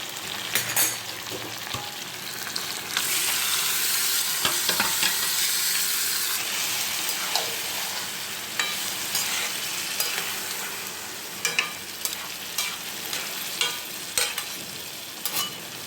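Mutton fries in a pan with a loud, steady sizzle, while stirring adds scraping and clicking strokes throughout. It is close, with no talk.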